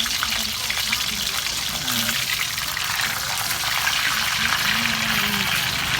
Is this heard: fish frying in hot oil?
yes